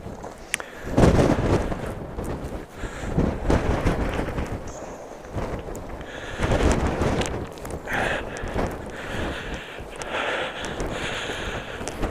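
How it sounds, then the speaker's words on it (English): Gusting wind buffeting a microphone outdoors on a drive along Iceland's Golden Circle, loud rumbling blasts that rise and fall unevenly across the whole stretch. "So it's getting a little bit more windy here"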